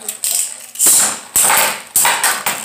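A Beyblade spinning top, hand spun rather than launched, clatters and scrapes in a battle arena in a series of loud, sharp bursts of mechanical rattling separated by brief lulls.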